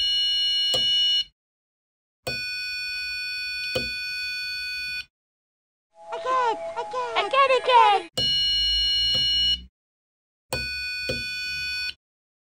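An electronic quiz buzzer project sounds steady, loud electronic tones in separate bursts as its buttons are pressed, with a short stretch of a voice and noise between them.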